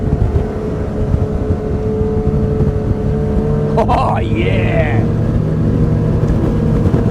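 A loud, steady motorboat engine roars throughout while a 2020 Fairline F33 turns at speed, with a brief spoken exclamation and a splash of water midway.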